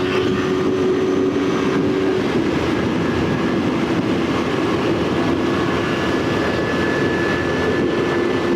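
A Yamaha YZF-R3 motorcycle is held at full throttle in fourth gear, giving a loud, unbroken engine drone with a high whine. Wind rush stays constant throughout, with a slight pitch shift early on.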